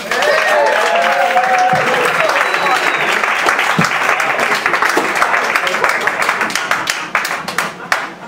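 Audience applause for a comedian at the Comedy Store, a dense, loud wash of clapping that holds steady for several seconds and thins out toward the end, with a few voices mixed in.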